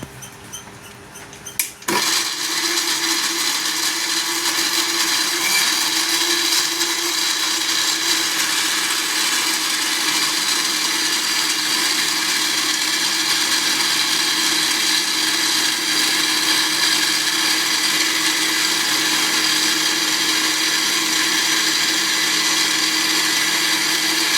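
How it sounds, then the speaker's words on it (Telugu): After a brief rattle, a mixer grinder starts up and whirs loudly and steadily, blending green chillies into a paste in a constant close motor drone with no talking. "ఇప్పుడైతే దీన్ని మిక్సీ పట్టుకోవాలి."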